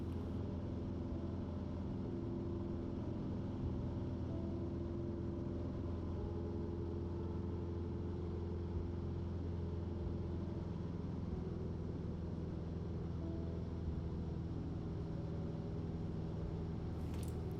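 A light training airplane engine throttled back to cruise power hums steadily and evenly inside the cockpit, a continuous low drone with no talk.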